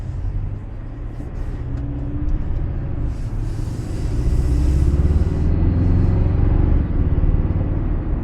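A 2024 Toyota Tacoma pickup with a Pedal Commander throttle controller cruises in eco mode, its engine and road rumble steady and muffled from inside the cab, swelling slightly midway with no one talking.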